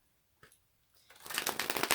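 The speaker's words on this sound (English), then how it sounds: "Let me make sure I'm shuffling these." A brief tap, then a rapid riffle of cards being shuffled, the crisp fluttering building louder over about a second, close and alone.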